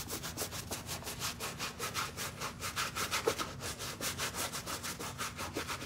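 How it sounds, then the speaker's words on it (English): Brush scrubbing back and forth along the sides of shoes during a wash, a steady rapid rhythm of close, bristly rubbing strokes heard alone without talk. "Just keep on scrubbing the sides."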